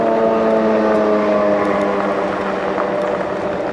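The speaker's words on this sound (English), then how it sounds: "it sounded like a loud motorcycle" A loud motorcycle passing on a rural road in wine country, a steady droning engine with strong harmonic tones, sustained and fairly close for several seconds before easing slightly.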